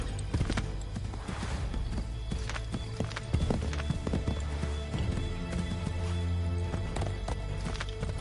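Galloping horse hooves as a rider travels in Assassin's Creed 3, a steady, close clip-clop rhythm that runs the whole time under a soft musical bed, with little speech.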